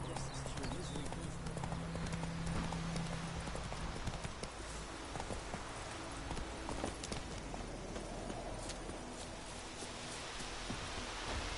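Roach, a horse in the video game The Witcher 3: Wild Hunt, gallops with a steady, quiet patter of hooves, faint and continuous over a rain-like wash, with brief talk early on.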